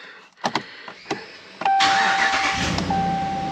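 A Ram pickup truck's engine cranks in a few short bursts, then fires and settles into a steady, loud idle close by, with a thin whine running over it.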